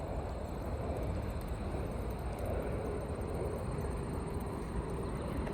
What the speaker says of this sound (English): Sounds like an airplane.